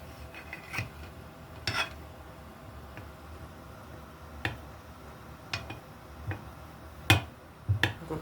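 Small pieces being cut for a chocolate cake on a quiet kitchen surface, with sparse sharp knife taps and clicks spaced irregularly across the stretch, faint and close, a quick double tap near the end.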